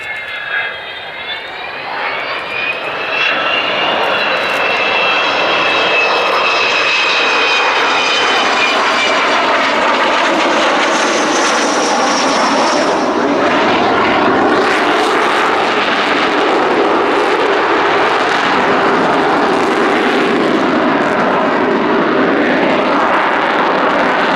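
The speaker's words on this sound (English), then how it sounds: "Bear in mind, this is a 60-year-old aeroplane." A 60-year-old Avro Vulcan XH558 bomber in a solo flying display makes a loud, sustained jet roar with a rising howl and shifting whine as it passes, filling the whole stretch with no talk.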